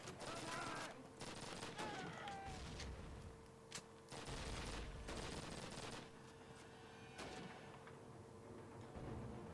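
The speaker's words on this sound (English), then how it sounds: "Let's just get a grenade or two over there." Grenades burst in the Call of Duty video game amid rapid bursts of gunfire, sharp repeated blasts and crackling shots layered with game effects, with people talking over the action.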